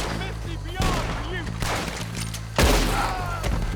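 Gunshots ring out in a Red Dead Redemption 2 firefight as loud, separate cracks and thumps, with a heavy blast near the end and game music and voices underneath.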